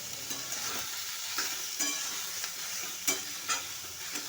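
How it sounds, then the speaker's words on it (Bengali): Drained soybean chunks fry in hot mustard oil, a soft continuous sizzle broken by several quick scraping stirs of a spatula against the pan, with no voice present. "সর্ষের তেলটা একটু গরম হয়ে গেলে সর্ষের তেলের ভেতরে দিয়ে দিতে হবে জল ঝরিয়ে রাখা সোয়াবিন। এরপর সোয়াবিনগুলো একটু ভেজে নিতে হবে।"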